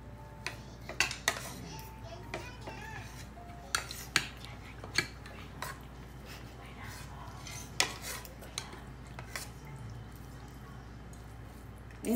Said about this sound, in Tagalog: Kain tayong dinner.